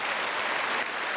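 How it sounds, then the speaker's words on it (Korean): A church congregation at a Sunday worship service claps to welcome guests: a brief, dense burst of many hands, fairly close and even in loudness. "우리 크게 박수로 환영해 주시면 감사하겠습니다"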